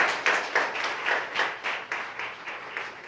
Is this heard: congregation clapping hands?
yes